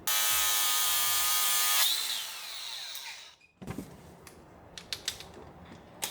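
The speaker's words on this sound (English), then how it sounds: "We're gonna just make this a little different with the grinder, and then we'll be able to get the bolt out" An angle grinder cuts and reshapes a bolt on a Suzuki mini Jeep being rebuilt with a 300hp turbo setup, a loud steady whine for about two seconds that winds down, followed by quieter clanks and taps of handling.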